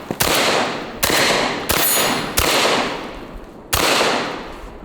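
Five loud, sharp blasts from a Benelli M4 semi-auto shotgun loaded with double-aught buckshot, fired at a watermelon and a 2-liter bottle, spaced roughly a second apart, each cracking hard and trailing off in a long echo.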